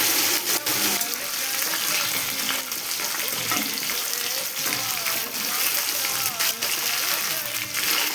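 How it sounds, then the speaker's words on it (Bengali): Pangas fish fries in hot oil in a home kitchen, with a constant close crackle and sizzle and sharp spattering pops throughout. "আর এই মাছটা ভাজার সময় একটু সাবধানে ভাজতে হয়, প্রচুর পরিমাণ মাছটা ফাটতে থাকে"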